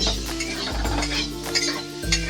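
Hog plum pieces stirred with chili powder in a pan, a spoon scraping and clinking against the metal over a faint sizzle, close and brief.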